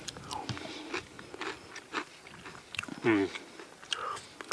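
Someone chews a piece of bread baked over a canoe-trip camp fire in a Dutch or reflector oven, with soft close bites and crunchy mastication sounds and light breathing.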